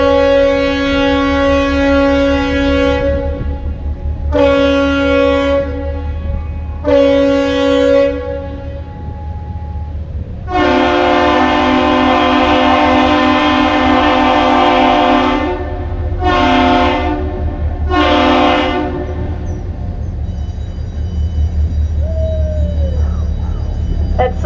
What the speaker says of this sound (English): That salute you just heard is known as the Captain Salute or the Standard Salute. It's the most common salute out on the Great Lakes, one long, two short.